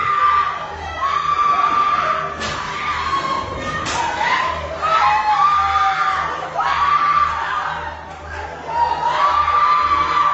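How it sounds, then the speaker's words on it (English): A crowd screams and shouts in panic after gunshots during a church service, voices rising and falling in waves, with thumps and scattered yells in a reverberant indoor space. "followed by terrified screams and a desperate rush to safety"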